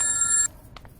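A telephone ring tone plays for about half a second during an outgoing call, a bright electronic trill that stops abruptly, followed by a couple of faint clicks.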